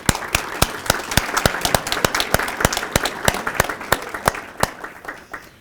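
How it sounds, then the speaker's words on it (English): Audience applause at an annual Stars & Stripes Forever event in Farmington Hills, a steady patter of many hands with a few loud, sharp nearby claps standing out throughout. "So give them a round of applause"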